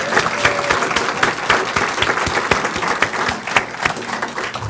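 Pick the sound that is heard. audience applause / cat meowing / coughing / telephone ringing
audience applause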